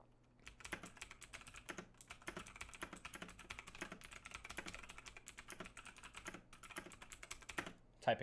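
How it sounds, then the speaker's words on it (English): Rapid clacking on a computer keyboard, bursts of keystrokes tapping close by in quick irregular runs with brief pauses, faint voice traces underneath. "Typing intensifies."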